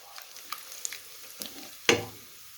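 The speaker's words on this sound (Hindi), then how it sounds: "तो इसमें हमने ज़ीरा ऐड कर देना है।" Cumin seeds go into hot oil with golden ginger-garlic paste for moong dal fry, giving faint, scattered crackles and small pops, then a sharper sizzling burst near the end.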